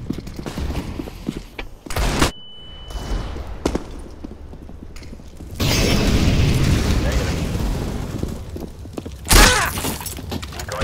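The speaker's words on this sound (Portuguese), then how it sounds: "Deploying flashbang." A flashbang grenade goes off in the video game CS:GO: two sharp, loud bangs stand apart from a busy stretch of gunfire-like bursts and rumbling noise, with voices heard in between.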